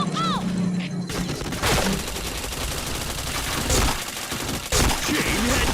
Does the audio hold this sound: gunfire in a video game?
yes